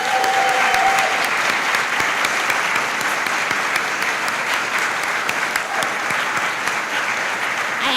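Steady applause from an audience at the Democracy Awards ceremony, a continuous even wash of clapping from a crowded room with no voices standing out.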